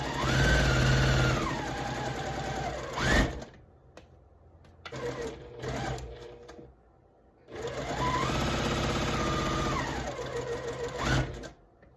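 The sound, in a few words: sewing machine sewing quilt block pieces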